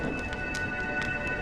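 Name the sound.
rain and thunder in video game Honkai Star Rail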